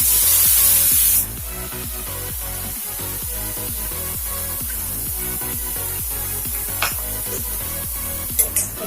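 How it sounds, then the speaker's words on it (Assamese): Blended melon-seed paste frying in hot oil in a pan: a loud, steady sizzling hiss with a brief sharper spray at the start and faint scraping stirs later. "এইখিনি মই এতিয়া ভাজি লওঁ ধুনীয়াকৈ।"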